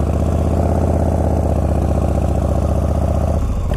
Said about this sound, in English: I'm riding a chopper